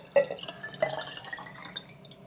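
Warm room-temperature water, about 2.5 litres, poured into a jar for a tomato seedling fertiliser mix, heard as faint splashing and dripping with a few louder splashes near the start.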